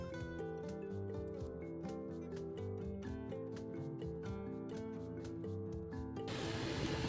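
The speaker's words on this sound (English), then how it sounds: "Here's the tower printing." A 3D printer printing a tower hums with layered motor tones and regular ticking steps in a quiet, repetitive pattern, ending in a brief burst of broader noise.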